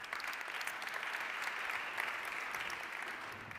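Audience applause fills a panel session at a plenary, a steady wash of clapping that holds at an even, fairly loud level throughout with no talk over it.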